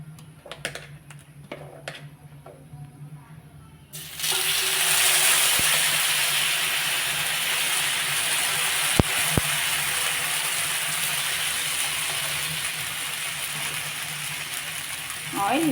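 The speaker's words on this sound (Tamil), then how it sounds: "இப்போ மாவை ஊற்றி தோசை சுடலாம்." Bottle gourd dosa batter poured onto a hot dosa pan breaks into a loud, steady sizzle that starts suddenly and keeps on hissing, with a few light clicks and scrapes before and during.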